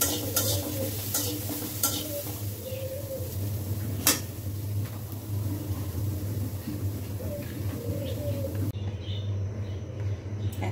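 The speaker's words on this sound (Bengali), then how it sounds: "শুটকিটাকে ভেজে নিব।" Dried puti or chapa shutki frying in a pan with a little oil, a steady close sizzle broken by scraping stirs and occasional utensil clinks, with faint birdsong in the background and no speech.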